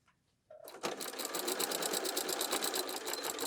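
A sewing machine stitches through thick, basted layers of a waist apron over its pockets, starting after a brief pause and running in a steady, fast mechanical rattle with regular pulsing close to the mic.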